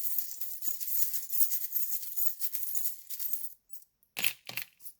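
Small metal divination charms tossed out and clinking together, a run of light jingling rattles followed by a few sharp separate clinks near the end.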